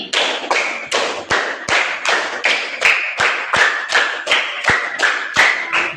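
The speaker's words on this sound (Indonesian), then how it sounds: "Tepuk 5 3 kali." Rhythmic hand clapping during a classroom clapping routine in an Indonesian-language lesson: about fifteen sharp, loud, close claps in a steady patterned beat, with no talking.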